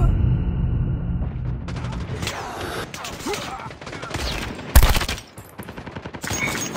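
Machine gun fire in Call of Duty multiplayer on the Shipment map, dense rapid gunfire bursts layered over game effects, loud and close, with a sharp blast midway and game voices calling out.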